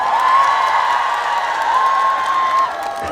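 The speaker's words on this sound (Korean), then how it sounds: "완도에 살았다 생각하시면 박수 한번 주시겠어요?" Crowd of festival-goers at an outdoor island-day concert in Wando claps and cheers steadily for about three seconds, a dense continuous wash of applause with scattered whoops.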